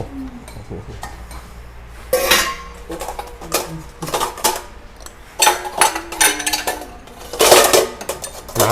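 A ladle scoops stuffed bitter gourd and minced pork soup from a pot, making irregular metallic clinks and knocks against the pot, loud and close in bursts separated by quieter pauses.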